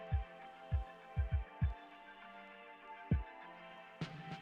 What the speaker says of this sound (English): I'm currently using my e-file at a speed of about